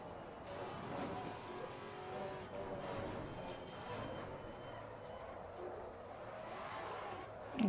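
A race car engine in the Assetto Corsa Competizione driving game, a continuous loud drone of revving and downshifts with shifting pitch, under low talk.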